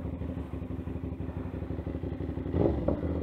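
CFMOTO 450SR trail motorcycle riding in the rain, a steady close engine drone with rhythmic pulsing and a few clattering knocks near the end, no talking.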